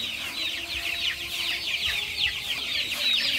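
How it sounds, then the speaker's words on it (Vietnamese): Flock of chickens, about a thousand birds raised in a large free-range farm, clucking and chattering continuously, a dense overlapping chorus of high calls with scattered louder squawks, fairly close and steady throughout. "Hai đàn gà đang chạy nhảy."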